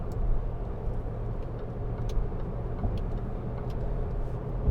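A 2012 Range Rover 4.4 TD V8 cruises at 70 mph in top gear, heard from inside as a steady, even roar of engine, tyres and wind with no talking.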